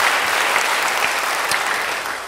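A church congregation applauds with loud, dense clapping that stays full and even, then fades slightly at the end.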